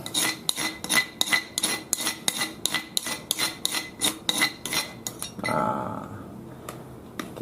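Fishing bait mixture being stirred briskly in a container with a spoon, a run of rhythmic scraping, rasping strokes, roughly two per second, then a softer mushy churn near the end; no talk.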